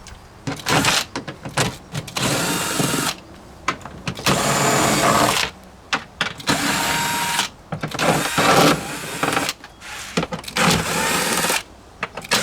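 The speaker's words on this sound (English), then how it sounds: "I'm using my cordless drill with the socket attachment" A cordless drill with a socket attachment whirs in repeated bursts of several seconds each, unscrewing bolts during a Tesla Model X 12V battery replacement, starting and stopping with brief pauses, loud and close with no talking.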